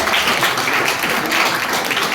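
Audience at a Janjatiya Gaurav Diwas community gathering applauding a doctor, a dense burst of many hands clapping together at close range, filling the whole short moment.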